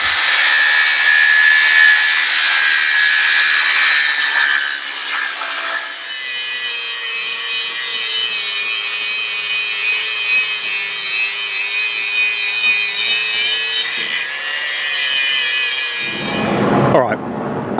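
Steel pieces for a trawler's crane base being cut to length and bevelled, a steady loud abrasive grinding rasp with shifting pitch that runs continuously for most of the stretch, then swells briefly before cutting off near the end.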